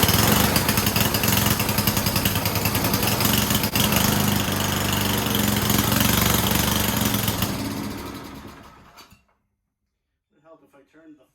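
Ariens 8524 snowblower engine running loud and steady with a rough, throbbing drone as the wheels try to spin in a burnout, then cutting out and dying away, followed by silence and a few faint clanks.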